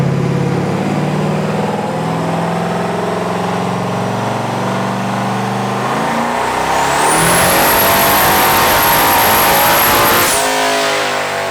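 A car engine fitted with small eBay turbochargers revs hard on a dyno, a loud continuous roar that builds and shifts pitch, with a high turbo whine rising in the second half before cutting off near the end.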